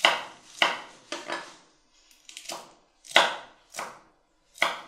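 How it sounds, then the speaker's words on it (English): Vegetables being chopped with their stems and stalks still on: sharp, close knife strikes landing one by one in an uneven rhythm, with brief pauses between cuts. "you see I'm chopping them with their stem,"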